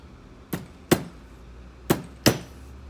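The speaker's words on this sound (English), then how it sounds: "Where's my little hammer?" Four sharp metallic taps from a small hammer, struck close by on a bit key being fitted to an antique surface-mount lock, fall in two quick pairs over a faint steady background hum.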